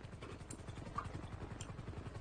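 Helicopter in the video game GTA V, a steady low rotor thrum that sounds distant and faint, holding throughout.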